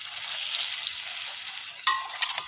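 Tilapia fish frying in hot oil gives a steady, close sizzle with crackling spatter and a brief louder pop near the end.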